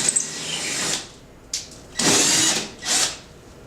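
Power drill fitted with a 1/4 inch bit boring holes into a wall to mount drapery hardware brackets, heard as several separate whirring bursts of varying length, close and fairly loud, with no talking.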